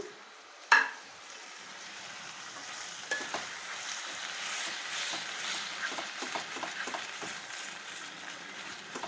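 Tomatoes go into sizzling ginger paste in a pan for an egg masala curry: a sharp thump as they land, then a soft, steady frying crackle with light stirring.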